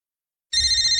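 Telephone ringtone starting abruptly after a moment of silence, a bright electronic trill that continues steadily, fairly loud and close.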